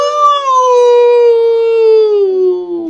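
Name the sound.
werewolf howl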